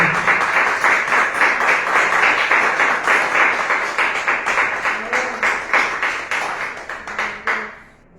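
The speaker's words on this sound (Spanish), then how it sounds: "Un aplauso a Dios, hermanos." A church congregation claps steadily for several seconds, the applause thinning into scattered claps toward the end.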